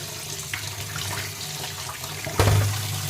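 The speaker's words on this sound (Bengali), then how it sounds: "ভিনিগার দিয়ে ছানাটা কাটিয়েছি আমি একটু ঠান্ডা জলে ধুয়ে নেব" Cold running water rinsing vinegar-curdled chhana in a kitchen, a steady tap flow throughout with a louder gush near the end, no talking.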